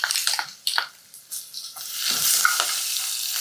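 Spices and thecha with mustard seeds, cumin, asafoetida and curry leaves sizzle in hot oil, close and loud, with stirring scrapes at first and then a rising, steady hiss.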